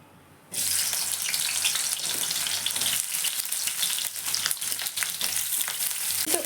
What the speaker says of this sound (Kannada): ಈರುಳ್ಳಿ ಫ್ರೈ ಆಗ್ತಾ ಇರಲಿ